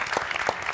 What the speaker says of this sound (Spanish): Estamos hasta las 11:04 aplaudiendo, ¿no?